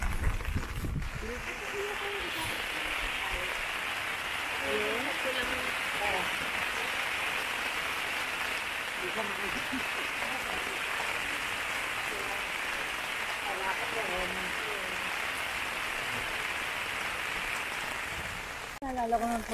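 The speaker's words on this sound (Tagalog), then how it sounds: "Umuulan, ang umuulan. lakas." Heavy rain falls steadily over a scenic viewpoint in Tanay, Rizal, a dense, constant hiss lasting throughout, with faint voices murmuring beneath it.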